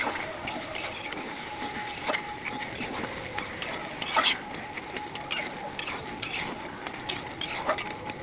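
Taro leaves (kochu shak) being stirred in a cooking pan, repeated scraping of a spatula against metal in an irregular rhythm over a soft sizzle, close and fairly loud.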